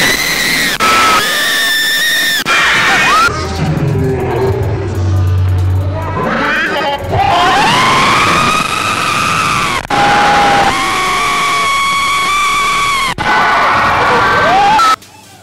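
Loud, sustained high-pitched screaming from a large concert crowd, rising and falling in waves with cheering, filling nearly the whole stretch before cutting off at the end.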